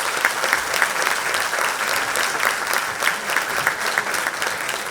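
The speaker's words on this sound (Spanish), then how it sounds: "así que un aplauso" An audience applauds at the presentation of a book and documentary celebrating the bicentenary of Banco Provincia, a steady crowd of clapping hands filling the room with no speech.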